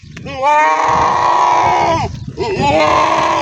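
A Punjabi desi goat bleats loudly and close by in two long, wavering calls separated by a brief pause.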